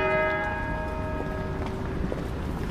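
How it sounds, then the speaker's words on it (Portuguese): A church bell rings in a city street during a trip to London, its sustained tones steady and resonant over a constant backdrop of urban traffic and crowd noise. "Olha o sino tocando."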